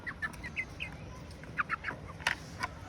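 Soft, scattered clucks from a hen, faint and close against a low background hum, coming in short irregular bursts.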